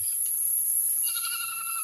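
Goats bleat on a mountainside, a brief high wavering call rising in the second half over a steady faint outdoor hiss, with no talking.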